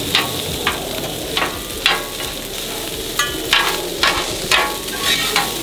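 Food fries fast in a pan, giving a loud, steady sizzle broken by regular scraping stir strokes roughly every half second.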